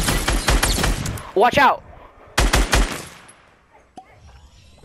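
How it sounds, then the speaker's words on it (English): SCAR assault rifle fire in Fortnite cracks out in loud rapid bursts, pausing and then resuming, while players call out to each other over the shooting. "Why are you just shooting with the scar?"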